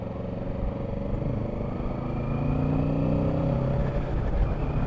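A 2020 Kawasaki Ninja 650 parallel-twin motorcycle engine hums steadily while riding, a close, continuous drone with a slowly rising pitch as it gains speed, accompanied by wind noise and no talking.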